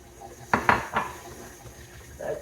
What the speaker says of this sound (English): next we are going to add in our eggs one at a time